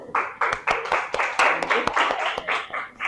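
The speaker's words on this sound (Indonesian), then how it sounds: "Oke, tepuk tangan semuanya." Students in a classroom clap their hands in sharp, distinct bursts with a loose rhythm, close and fairly loud, while voices murmur underneath.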